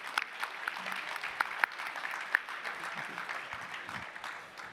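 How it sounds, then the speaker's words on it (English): Faint, steady audience applause at the close of a fintech industry panel event, heard from a distance with a few sharper individual claps standing out from the continuous patter. "I ask that we just give a round of applause"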